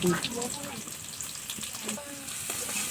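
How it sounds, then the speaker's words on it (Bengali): Chopped onion and garlic frying in mustard oil in a wok give a steady, close sizzle with a few faint clinks. It holds fairly even over three seconds, with no talk. "দেয়া হলো কড়াইতে খাটি সরিষার তেল আর দেয়া হবে পেঁয়াজ কুচি রসুন কুচি"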